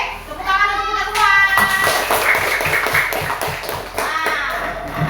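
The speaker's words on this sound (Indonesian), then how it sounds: "Tepuk tangan untuk kita semua." Children in a classroom clapping their hands together, a rhythmic burst of claps mixed with young voices talking and calling out, fairly close and lively.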